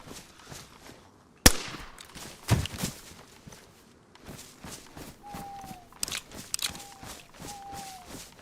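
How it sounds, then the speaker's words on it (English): Footsteps on the Deer Isle map in DayZ fall as soft, steady treads across the scene, broken by a few sharp cracks and faint whistling tones, with no voices. "I hear footsteps."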